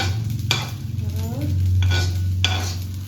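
Food sizzles steadily in a hot pan while a utensil scrapes and stirs it a few times, close up, over a constant low hum.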